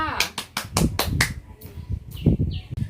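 Children clapping for themselves in a classroom lesson: a quick, evenly spaced run of about seven sharp claps, followed by scattered voices and a few softer taps.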